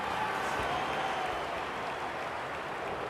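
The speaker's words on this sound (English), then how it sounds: "The crowd already making plenty of noise as the captains come together." Steady stadium crowd roar in an AFL video game, Brisbane Lions against the Western Bulldogs at the Gabba: a constant, even wash of crowd noise with no clear peaks, heard throughout.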